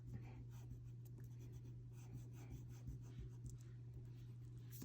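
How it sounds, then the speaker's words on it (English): Eraser rubbing back and forth over pencil lines on paper while a portrait is drawn, a steady close scratchy scrubbing with a low constant hum underneath and no talk. "I erase this part and I erase this part."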